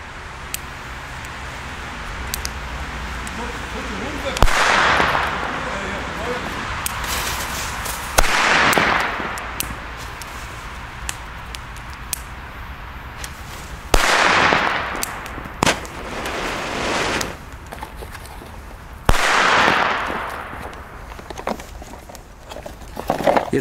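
Astronaut firecrackers go off outdoors: four or five sharp, loud bangs spaced several seconds apart, each followed by a brief crackling decay, with quieter rustling between blasts.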